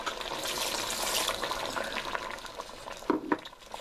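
Liquid stock poured into a pot of oxtail stew, a steady close splashing rush that tapers off with a few final drips and plops near the end.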